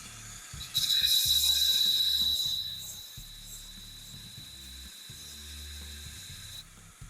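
An 8-inch bench grinder with a belt grinder attachment runs at higher speed, a bright high whine and hiss swelling loud for a couple of seconds, then settling into a quieter steady hum with low rumbling.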